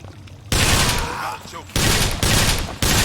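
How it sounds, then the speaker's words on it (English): Tommy gun bursts fire in BioShock Infinite, three loud rapid bursts of automatic gunfire with short gaps between them, close and dominant. "Tommy guns don't do the best damage, but burst fire seems to be controllable at least."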